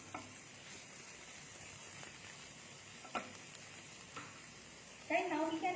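Food stirred in a pan on a just-extinguished stove gives faint soft scraping and gentle sizzle with a few small clinks, then a louder burst of movement at the end.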